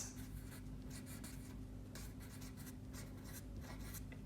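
Pencil writing on paper in a primary school classroom, a steady soft scratching and rubbing that runs the whole time at a faint level over a low background hum, with no voices.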